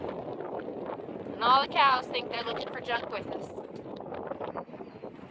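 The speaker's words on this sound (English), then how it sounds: "you can hear that wind whipping right now" Gusty wind ahead of an incoming storm roars and buffets the microphone steadily outdoors, with a person talking over it.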